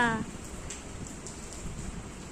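Steady rain hisses and patters on a surface, a continuous broadband wash with faint drips, after a brief voice at the very start.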